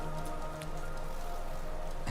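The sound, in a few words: rain downpour in the video game Hollow Knight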